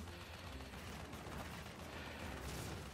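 Enemy gunfire in the Crash Bandicoot: Warped video game pours out as a dense, loud, continuous barrage of rapid shots with no voices over it.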